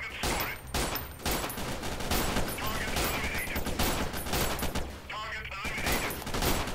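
Gunfire in the war game Freeman Guerrilla Warfare pops in dense, overlapping volleys of close and distant shots throughout, with mechanical clatter mixed in.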